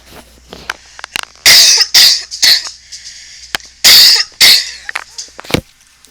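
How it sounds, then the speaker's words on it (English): Several harsh, loud coughs come in bursts, separated by short quiet gaps and a few faint clicks. "These coughing fits are terrible."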